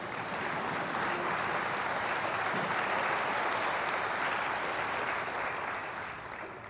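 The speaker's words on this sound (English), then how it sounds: "you can clap for that" A church congregation applauds during a sermon, a dense, even wash of clapping that holds steady for several seconds before fading near the end.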